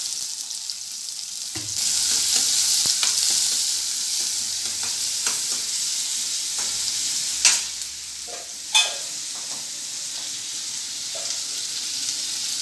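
Chopped onion sizzles and crackles in hot oil with mustard seeds and cumin, frying steadily and close, broken by a few sharp scrapes of a spoon stirring the pan; no talk.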